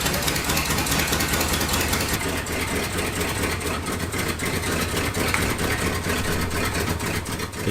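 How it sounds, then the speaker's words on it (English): A 1974 Ford F-250 Highboy pickup engine idles after a cold start with no choke adjustment, a loud, steady, rumbling idle that runs unbroken throughout. "The truck was now idling from a cold start, with no choke manipulation at all"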